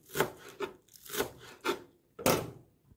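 Four crisp knife cuts through spring onions at an even pace, each a short crunchy chop on a board, close by with brief pauses between.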